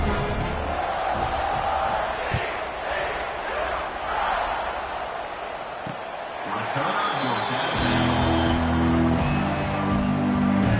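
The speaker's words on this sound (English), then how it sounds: "You think this crowd's going to get loud when their defense comes on the field?" A college football stadium crowd roars and cheers as the home defense takes the field, a broad, sustained wall of noise with a louder rumbling swell near the end.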